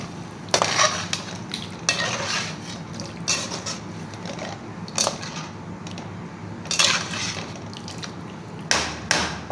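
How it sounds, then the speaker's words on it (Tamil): Urundai kuzhambu curry with tamarind water is stirred in a pan, giving close, repeated scraping and clinking strokes over a soft, continuous simmering sizzle, with no talking. "நல்லா கிளறி விடுவோங்க."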